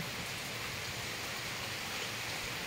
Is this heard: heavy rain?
yes